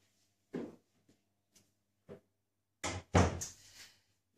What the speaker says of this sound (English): Let me actually close this door.